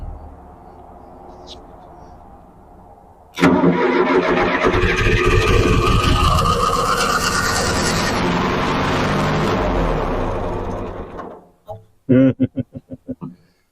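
A John Deere 401C tractor engine at part throttle cranks and catches abruptly, running loud and rough for several seconds before dying away, followed by a few sputtering coughs.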